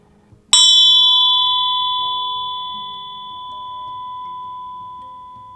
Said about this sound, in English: focusing on the sound of the bell till you can hear it no longer